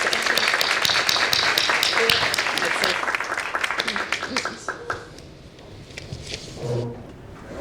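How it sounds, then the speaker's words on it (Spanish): An audience at a Spanish-language forum applauds the panelists at the close of a session, a dense burst of clapping that thins out and fades toward the end. "Les pido un aplauso para los panelistas."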